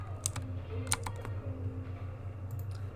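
Computer keyboard keys pressed in a quick irregular series of crisp clicks, fairly close, over a low steady hum.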